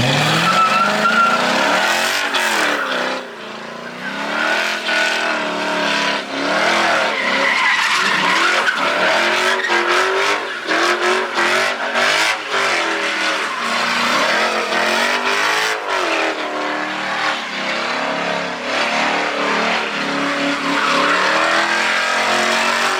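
A car drifts and slides around a street sideshow with long, loud tire squeals and skids over a revving engine, the screeching rising and falling almost continuously throughout.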